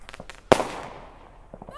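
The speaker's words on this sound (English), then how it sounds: "people are even lighting up fireworks down the street over here" A single sharp firework blast set off down the street during Pioneer Day celebrations in Utah, a loud crack with a long fading rumble, with brief voices around it.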